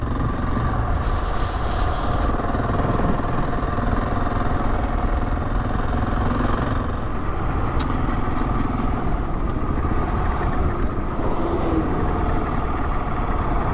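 Motorbike riding along a country road near the A172 toward Carlton in Cleveland, a steady engine drone with wind roar running continuously and loud throughout, no talking.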